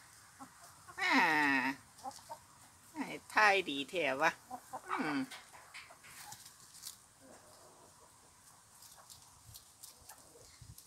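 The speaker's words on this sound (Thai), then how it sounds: "ไก่สีดำ เนื้อกระดำ" Black-feathered, black-fleshed chickens clucking and squawking loudly in a few bursts near the listener, with quieter farmyard sounds and faint rustling afterward.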